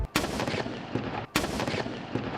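Two loud, close cannon blasts of a 21-gun salute at a state ceremony, each boom followed by a long rolling echo, evenly spaced over about a second.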